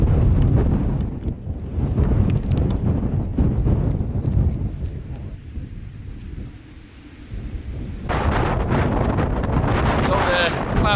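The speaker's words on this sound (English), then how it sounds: "Still very windy, but out of the wind." Strong gusting wind in the Peak District hills buffets the microphone in loud, rough bursts, easing briefly before roaring back.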